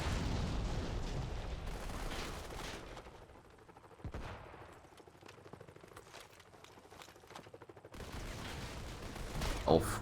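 Modern Combat 5 mobile game gunfire crackles in dense bursts and volleys, loud at first, thinning in the middle, then surging again, with a commentator talking over parts of it.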